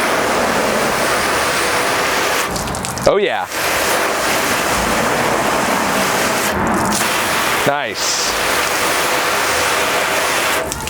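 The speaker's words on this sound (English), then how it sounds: "Fixed my hose from the leak. Let's see what the initial water test looks like." A garden hose sprays a steady hiss of water onto a car panel waxed with spray wax, a continuous loud wash with two brief dropouts as the stream shifts, and short remarks spoken over it.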